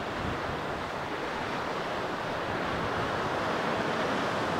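Sea waves wash steadily at a cave on the coast, giving a continuous broad roar of surf and wind. The sound is moderately loud and holds steady without breaks.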